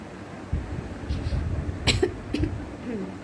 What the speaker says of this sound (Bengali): আমার একটু হালকা কাশি হচ্ছে